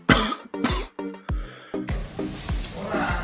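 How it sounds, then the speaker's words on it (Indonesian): A person coughs sharply several times in quick succession, close and loud, with short harsh bursts and brief pauses between them. "Hayo, siapa yang sedang batuk?"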